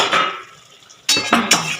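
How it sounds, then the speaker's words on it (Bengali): A metal lid lifted off a pan of simmering katla fish curry, giving a clattering clink followed by two more sharp metallic knocks, close and fairly loud with no speech. "এবার আমি ঢাকাটা খুলে দেব।"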